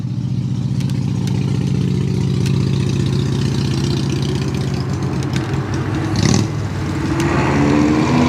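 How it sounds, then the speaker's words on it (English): A Harley motorcycle rolls past at a sprint course, its deep, lumpy V-twin rumble steady and fairly close, rising slightly as it passes, with light crackling noise layered on top. "Someone's rolling through on a Harley."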